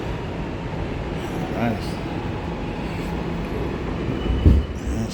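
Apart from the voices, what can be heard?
new A train subway passing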